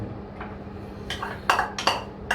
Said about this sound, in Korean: 야채를 먼저 볶겠습니다.